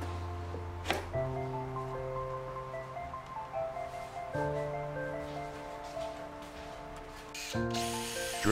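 A power drill whirs in sustained bursts with shifting pitch as it bores into a wooden table-saw crosscut sled for an M6 T-nut, with brief clicks between runs and a final rising spin-up.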